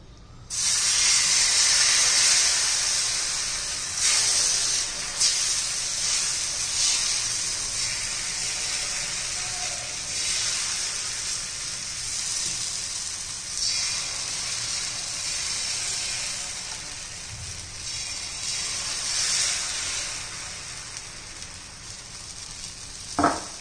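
Wheat flour chilla batter hits an oiled iron tawa with a loud burst of sizzling, settling into a steady frying hiss that slowly softens, ending with a small clatter.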